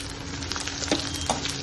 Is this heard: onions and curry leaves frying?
yes